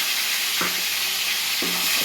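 A paste of onion, green chilli and ginger sizzles in hot oil for a tempering, with a steady close frying hiss and two soft stirring scrapes.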